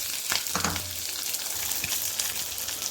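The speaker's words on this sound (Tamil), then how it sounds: "சீரகம் பொரிஞ்சோடனே வெங்காயம் போட்டுருங்க." Onions frying in hot oil with chana dal and cumin seeds for a spicy kara chutney, giving a steady broadband sizzle with a few soft stirring scrapes, close and continuous with no talking.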